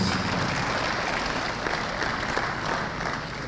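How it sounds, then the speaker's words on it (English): A crowd at a South East venture capital program event in Enugu applauds loudly and steadily, a dense, unbroken wash of clapping throughout. "Please can we give her a big applause, please?"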